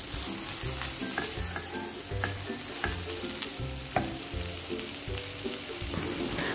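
Peeled, deveined shrimp stir-fry in a pan for black pepper kwetiau, a steady close sizzle broken by repeated scraping stirs of the spatula, with no talking.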